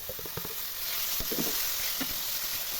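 Eggplant going into a hot pan of fried turmeric and salt gives a steady, moderate sizzle throughout, with a few soft stirring scrapes and clicks near the start and mid-way; no one speaks.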